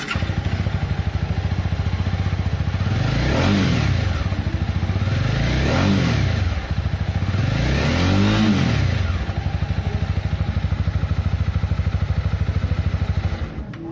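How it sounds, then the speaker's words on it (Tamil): A Honda CB300R motorcycle engine revs three times, each rise and fall of the exhaust note swelling loud and then dropping back to a steady idle. "இப்போ இந்த பைக்கோட எக்ஸாஸ்ட் நோட்டை பாருங்கள்."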